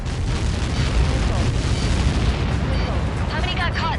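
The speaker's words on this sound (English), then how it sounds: "How many got caught in that explosion?" Huge rumbling explosion from Helios projectile impacts in the combat flight game Ace Combat 7, a loud continuous roar filling the whole stretch, with faint whistling tones near the end.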